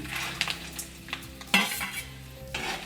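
Fried ingredients for a quick bajra murmura (puffed millet) snack are stirred in a pan with the heat off, a spoon scraping and clinking in short irregular strokes over a faint background sizzle.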